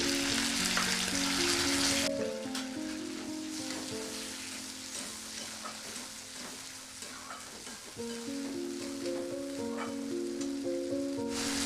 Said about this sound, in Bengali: এবার তেলের মধ্যে মশলা মিশিয়ে নেব। আমি এখানে আদা, জিরে এবং ধনের পেস্ট ব্যবহার করছি।